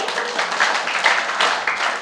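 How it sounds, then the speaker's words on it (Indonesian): A church congregation claps after answering a sermon question: a dense, steady wash of hand claps sustained for a couple of seconds, moderately loud and fairly close. "Tepuk tangan dulu buat kalian"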